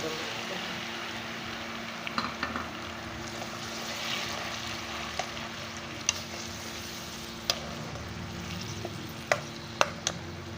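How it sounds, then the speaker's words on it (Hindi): A tomato, onion and garlic paste cooks in a hot pan for potato masala with a low, steady sizzle, punctuated by several sharp clinks and scrapes of a spoon. "अब इसमें हम शामिल करेंगे वो पेस्ट जो मैंने टमाटर, प्याज और लहसुन का बना के रखा है"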